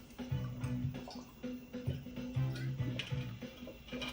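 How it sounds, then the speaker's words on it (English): Water is poured and drunk, giving a quiet run of soft, rhythmic liquid trickles and gulps repeating at an even pace, close by. "I'm gonna drink some water too."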